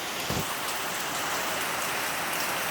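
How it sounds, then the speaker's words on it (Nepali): Heavy monsoon rain pours down steadily at Bhamari in the rainy season, a dense, loud, continuous hiss close by with no speech over it. "पानी दरर परिरहेछ झमझम पानी परो"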